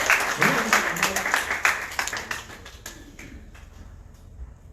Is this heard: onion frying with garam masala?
no